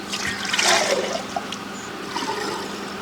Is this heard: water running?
yes